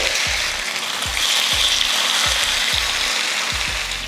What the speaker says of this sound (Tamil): இப்போ மீன் எடுத்து பொரிச்சிடலாம்